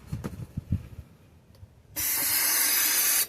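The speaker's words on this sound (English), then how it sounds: "Give me a spray on that, will you?" Aerosol spray hisses onto the motor of a mid-1980s Yamaha YFM200 Moto-4 ATV in one loud, steady burst of about a second and a half, after some faint handling noises.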